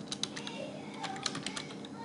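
Quiet, light tapping on a computer keyboard as a campaign name is entered, a short run of soft irregular keystrokes over faint room hum.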